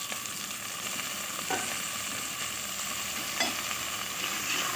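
Okra and onion sautéing together in a pan for a tamarind curry, giving a steady, close sizzle and crackle with a few brief stirring scrapes, and no voices.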